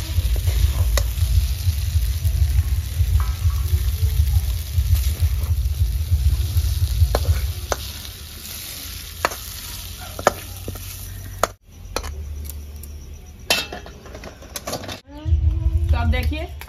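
Egg chowmein noodles stir-fried with egg in a hot pan, a loud steady sizzle with scraping and tossing of a spatula, briefly dropping out twice before the frying resumes near the end.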